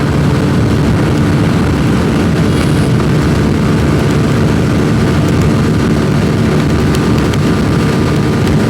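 A 2022 Suzuki Gixxer 250 motorcycle ridden flat out at top speed, a loud, sustained engine drone buried in heavy roaring wind rush, steady throughout with no talk.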